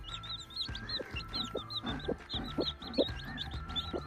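A hen clucks in soft repeated bursts while chicks peep high and continuously around her, close and fairly quiet.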